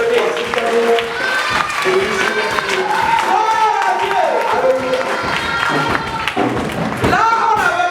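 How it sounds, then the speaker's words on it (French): Congregation at a church worship celebration applauding and cheering together, a dense sustained wash of clapping and voices at steady loudness throughout, with some singing or shouting mixed in. "Applaudissez le Seigneur pour la vie du frère René."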